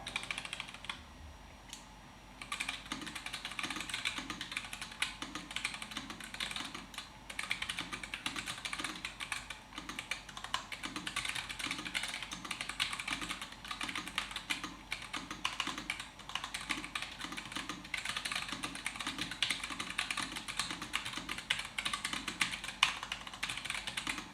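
Steady typing on a Nuphy Air75 low-profile keyboard set straight on a bare desk with no mat, a continuous close stream of clacky keystrokes with no talking.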